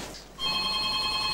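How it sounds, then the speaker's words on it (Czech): A telephone starts ringing abruptly at a wedding, a steady bright electronic trill that holds loud and close for about a second with no talk over it. "Co tak telefon? Ten musím zvednout, ten je velmi důležitý."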